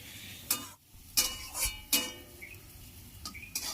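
Chopped onions and pea peels frying over low gas are stirred in a pan, giving soft sizzling broken by several scraping bursts and light utensil clinks at irregular intervals, fairly quiet overall.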